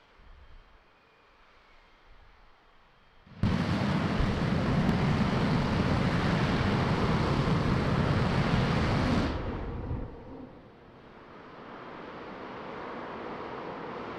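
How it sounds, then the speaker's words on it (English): A SpaceX Starship single-engine static fire, Ship 37, bursts in as a sudden, steady rocket roar, holds loud and broadband for about six seconds, then cuts off, leaving a fading rumble and distant wind. "Oh, and the sound just hit me here at the Rocket Ranch outpost."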